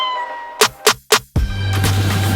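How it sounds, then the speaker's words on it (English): Pet cat letting out three quick, loud meows close by, evenly spaced over a steady background hum, followed by a louder rumbling, rustling noise. "Just my cat. Oh, Nice. Jet's your cat?"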